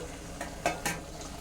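Chicken curry cooking in a pan on low to medium heat with the lid just lifted, a soft background sizzle broken by a few quick stirring scrapes and clinks, fairly faint and close.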